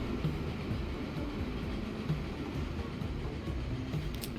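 Train running in the video game Transport Fever 2, a steady low rumble with faint periodic clicks, continuous and moderately loud with no talk.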